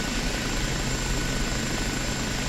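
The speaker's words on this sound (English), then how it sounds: "James Johnson is saying, do I have more fun with this helicopter or the Apache?" An OH-58D Kiowa helicopter in the flight simulator DCS World gives off a steady, loud, dense rotor and turbine roar that stays constant throughout, with no talk over it.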